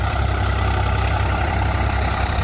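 A Swaraj 843 XM 4x4 tractor engine runs at about 1200 rpm in first high gear with no load, making a close, steady diesel drone with an even low throb and no voices.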